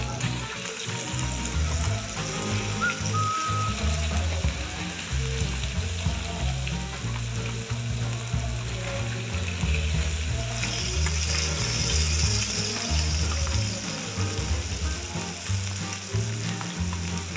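Fish frying in hot oil, a loud, continuous close-up sizzle and crackle that holds steady throughout, with no voices.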